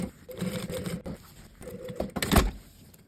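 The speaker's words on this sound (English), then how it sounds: "Sew a 6 to 7 millimeter seam to secure the two lining pieces together." A sewing machine stitches a 6 to 7 millimetre seam joining two pieces of pocket lining fabric, giving short mechanical whirring runs with brief pauses and a louder clunk near the end.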